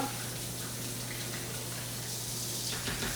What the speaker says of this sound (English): Just going to wash my spatula.